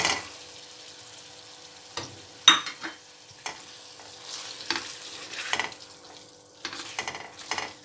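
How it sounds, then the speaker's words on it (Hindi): Masala and yogurt frying for mutton kofta curry, a low sizzle broken by repeated sharp spoon scrapes and clinks against the pan at irregular intervals, close by. "अब इसे 3 से 4 मिनट और भूनना है। इसे डाल के भुनेंगे।"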